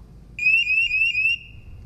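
The low-level alarm on a Micro IV HCl gas sensor sounds during calibration, giving a single steady high-pitched electronic beep lasting about a second over a quiet background.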